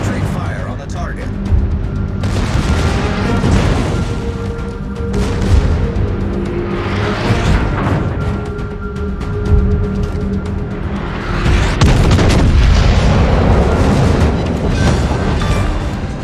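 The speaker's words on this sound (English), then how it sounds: "All stations, concentrate fire on the target." Naval guns firing at a target in a video game, a dense roar of repeated booms and rumbling blasts under an ongoing radio-style voice.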